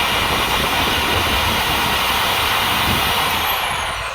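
A power drill bores out a sheared-off bolt in a car wheel hub, giving a loud, continuous whirring hiss that holds steady for the whole stretch and fades slightly at the end, with no talk.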